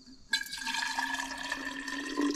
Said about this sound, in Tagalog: Salin na lang natin dito para bukas meron tayong pwedeng mainom.